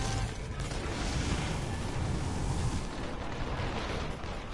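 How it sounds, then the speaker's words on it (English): Orbital drop landing blast in the video game Infamous Second Son, a loud, continuous roaring rumble with heavy low-end boom that holds steady throughout without a distinct single impact. "another orbital drop"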